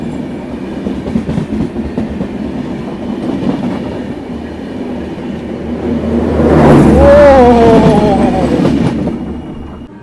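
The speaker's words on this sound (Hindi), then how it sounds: "one of the oldest train of our Indian railway," The Brahmaputra Mail express of Indian Railways, running from Delhi to Kamakhya, rumbles past with steady rolling clatter that swells loud and near midway, along with a shrill wavering whistle or horn, while someone talks faintly underneath.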